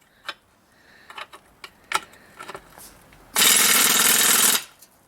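Pneumatic impact gun loosening a rusted nut on a VW independent rear suspension trailing arm: a loud, steady burst of rattling hammering lasting about a second, preceded by scattered clicks and handling knocks at close range.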